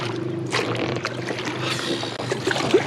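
Oars rowing a small boat, a dinghy, toward shore, giving continuous watery splashing and dribbling with a few sharper splashes near the end, close and moderately loud.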